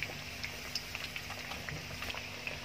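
Lamb chops frying in a pan over medium to low heat, a soft steady sizzle with small scattered pops and crackles, fairly faint and even throughout.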